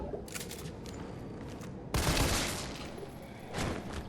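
Shotgun and pistol fire in the video game Resident Evil 3, heard as a dense burst of gunfire with one sharp, loud blast near the middle and another shot toward the end, under continuous game noise.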